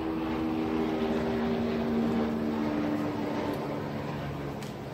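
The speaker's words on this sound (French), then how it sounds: "il y a un avion qui passe." An airplane passes overhead outdoors as a steady, broad droning roar with a low engine hum, holding fairly even then easing slightly toward the end, with no talk.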